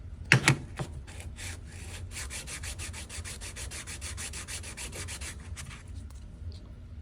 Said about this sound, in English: So I sanded this flat, and I sand these flat. The way I do it is sticky sandpaper,